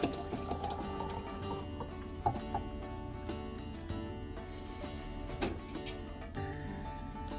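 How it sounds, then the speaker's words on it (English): Detox drink poured from one container into another, a soft continuous liquid trickle and fill with a few small splashes and drips, close and moderately quiet. "I'm gonna pour my drink out"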